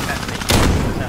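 A single sharp sniper-rifle shot in a first-person shooter video game, one loud crack with a brief tail, standing out over background game noise.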